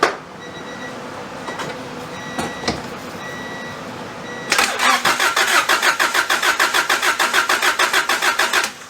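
A Honda Prelude's turbo F20B engine cranks over on the starter with no fuel, a steady rapid rhythmic chugging that begins partway through after a quieter stretch with a few clicks, loud and close.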